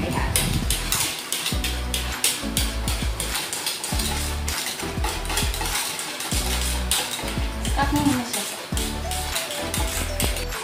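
Rapid clinking and tapping of a utensil against a bowl as a mango ice cream mixture is stirred and whipped by hand, in steady repetitive bursts, with someone talking over it.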